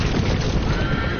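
A horse neighs loudly in a Game of Thrones video game scene, a short whinny with hoof clatter over a dense, rumbling background.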